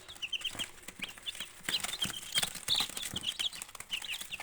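Chicks and young turkeys cheep and cluck in a poultry shed, a steady run of high, short peeps repeating close by with soft shuffling beneath, no talk.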